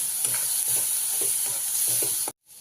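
Spice paste roasting in a pan with a splash of coconut milk added, a loud continuous sizzle broken by repeated scraping strokes of a spoon, ending in an abrupt cut to near silence.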